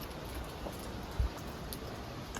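Steady rain pattering on a hiking shelter at Mystic Lake, a soft continuous hiss with one brief thump partway through and no voices.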